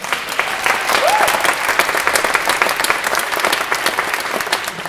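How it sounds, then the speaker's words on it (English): A theater audience applauds at the start of a concert staging of the musical Runaways, a dense and sustained burst of clapping that fills the room for the whole stretch. "Please give them a round of applause."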